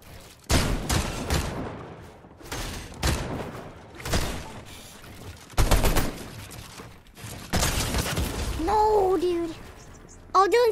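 Video game gunfire bursts out in loud, rapid volleys again and again, with sharp impacts between the bursts and some electronic tones near the end.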